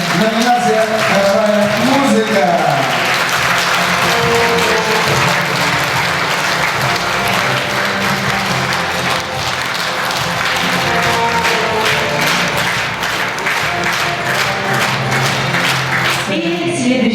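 A hall audience applauds an award winner at a Khakas song project ceremony; dense, steady clapping fills the whole stretch at full loudness, with a brief voice at the start.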